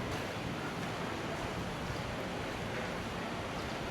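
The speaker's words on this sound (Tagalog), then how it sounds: "Malakas talaga yung alon tsaka waves ngayon." Strong ocean waves at Boracay beach crashing in a steady, continuous roar with wind noise, no voices, filling the whole stretch evenly.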